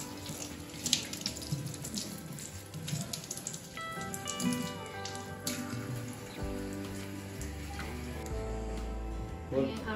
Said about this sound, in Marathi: पहिले हे पानं आपण स्वच्छ धुवून घेऊ